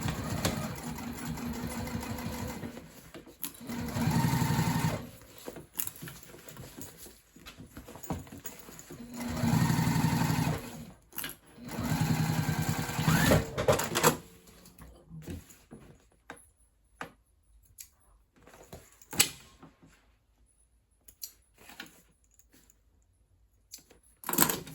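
A sewing machine stitches a hole closed on a fabric tote bag in close, loud mechanical runs of a few seconds each. Between the runs come pauses and small handling clicks.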